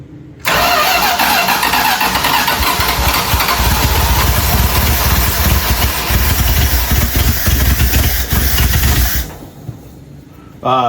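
A neglected 1978 Dodge D150 pickup, sitting for 20 years, cranks and catches, then runs loud and rough close by before the engine cuts out near the end.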